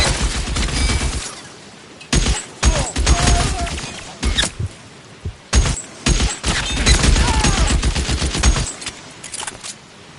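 A film shootout erupts in loud, close bursts of gunfire, with rapid volleys and single shots separated by short pauses, all sharp and percussive.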